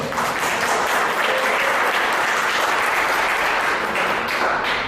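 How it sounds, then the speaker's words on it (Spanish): A church congregation at a Spanish-language seminar claps for the Lord, a loud, dense, continuous round of applause that holds steady throughout with no talk over it. "Dale un aplauso al Señor"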